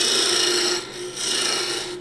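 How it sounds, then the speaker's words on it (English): A roughing gouge cuts spindle work on a wood lathe, giving a steady close rasping scrape with a brief dip in the middle before the cut resumes. "The roughing gouge is a very effective tool for shaping spindle work"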